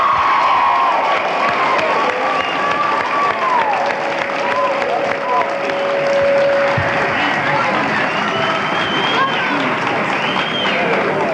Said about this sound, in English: let's give this team a certainly great round of applause for an excellent job.